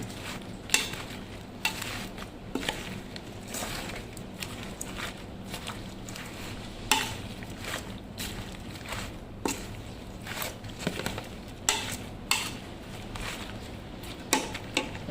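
Fish mixture for steamed fish curry stirred in a pot, a steady run of wet squishing, scraping strokes in an uneven rhythm, close and moderately loud with no talk.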